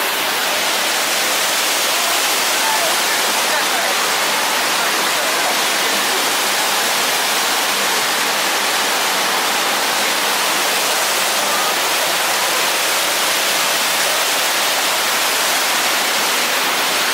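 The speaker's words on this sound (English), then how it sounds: "I like the waterfall." The waterfall at Pandora in Disney's Animal Kingdom gives off a steady, dense hiss and roar of falling water, loud and unbroken throughout.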